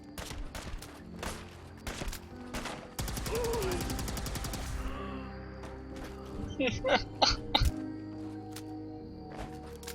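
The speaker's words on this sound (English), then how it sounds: "and then a bunch of gunshots." Bursts of video game gunfire, a rapid fusillade of shots with sharp single reports before and after, loud against in-game speech and background sound.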